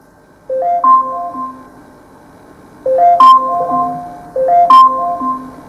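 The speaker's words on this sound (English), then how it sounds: "And that's the alarm." An Amazon Alexa camera timer alarm chimes indoors, a bright rising-and-falling electronic melody repeated three times with brief pauses, loud and clear with no voices over it.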